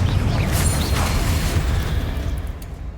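A Confringo fire spell exploding in Hogwarts Legacy, a loud booming blast with rumbling low end and crackling bursts that fades slightly toward the end, no voices.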